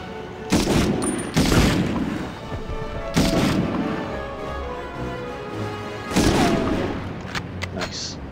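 Bazooka blasts and gunfire in the 1999 Medal of Honor video game, several loud sharp booms and bursts spaced a second or two apart, with rumbling echoes between.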